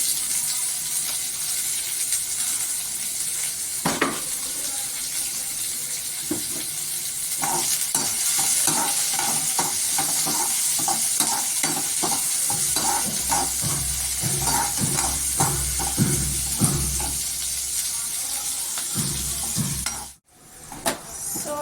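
Onions, green chillies and tomato frying in a pan while being stirred: a steady bright sizzle with repeated scraping stir strokes, close by, and a low hum joining partway through before a brief drop near the end.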